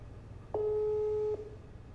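A single steady telephone tone during a call, close and clear, lasting about a second before stopping, over a faint low hum.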